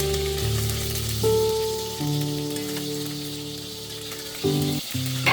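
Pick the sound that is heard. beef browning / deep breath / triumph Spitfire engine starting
beef browning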